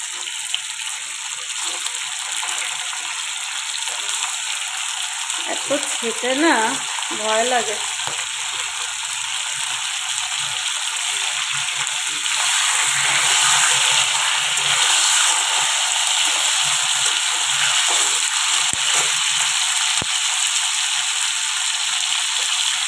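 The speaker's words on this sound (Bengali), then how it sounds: "আজকে চিকেনটাকে ভেজে বানাবো" Chicken frying in a pan gives a steady sizzle throughout, with a burst of stirring scrapes and clatter early on and a louder, fuller sizzle later.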